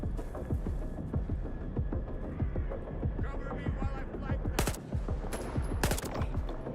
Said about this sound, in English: We got the headshot.